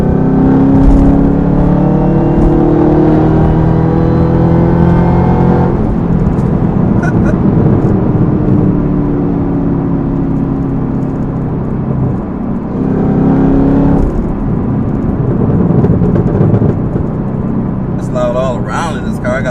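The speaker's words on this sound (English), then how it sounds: "I got the loud exhaust, supercharger. I can hear that now." Supercharged Chevrolet Camaro ZL1 with loud exhaust, its engine holding a steady, loud droning rumble with rising and falling rev sweeps, heard close up and continuous throughout.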